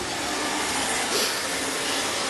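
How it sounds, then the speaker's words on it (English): A Roomba 650 robot vacuum cleaner runs steadily at close range, giving a continuous broadband whir with a faint motor hum that swells slightly midway, with no voices. "I'll show you what this little vacuum is capable of doing"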